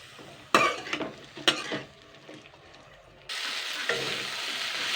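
Malabar spinach seeds and potato fry gently in a pan, with two sharp utensil scrapes early on, then a quieter patch before a steady brighter sizzle rises and holds to the end, close up and without speech.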